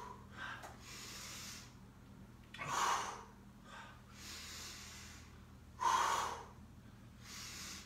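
Heavy breaths and forceful exhales come during a breathing and squeeze exercise, with two sharp loud exhales standing out among softer breathing in a quiet room.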